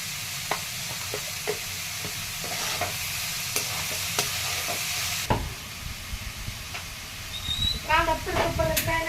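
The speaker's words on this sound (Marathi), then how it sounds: "यामध्ये मी मीठ टाकून घेते, म्हणजे कसं लवकर परतेल कांदा।" Onion sautés with salt in a pan, a steady soft sizzle broken by regular sharp stirring clacks of a utensil, then a louder burst of frying and scraping near the end, close and alone.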